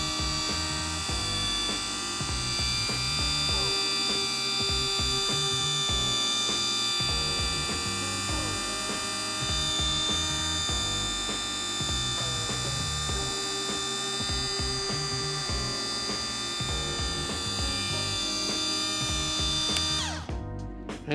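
A Maxshine mini polisher runs steadily on a car's paint near the headlight, a loud, close, continuous motor whine with a buzzing hum that holds for about twenty seconds before cutting off.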